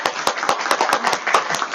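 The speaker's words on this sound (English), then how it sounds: "give a big round of applause to Srila Prabhu" A small group at a temple class gives a round of applause, sharp distinct hand claps in quick, uneven succession, close and moderately loud.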